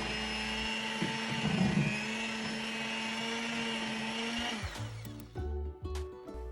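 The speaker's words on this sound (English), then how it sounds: "Set the mixer on a low speed setting to incorporate everything" An electric mixer runs on low speed through keto chocolate ice cream batter, a steady motor whine that stutters and cuts out in short bursts near the end.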